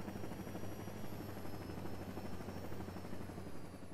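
Helicopter in the Saints Row reboot video game, a steady low rotor drone holding evenly and fairly quietly, with a faint high whine above it and no talk.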